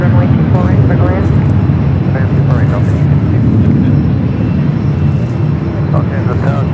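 Airbus airliner departing runway 24 right at Los Angeles International Airport, a steady loud engine roar filling the whole stretch while a radio voice talks over it.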